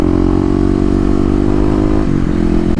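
A dual sport motorcycle engine drones loudly and steadily close by, its pitch dipping briefly near the end as the rider eases off the throttle.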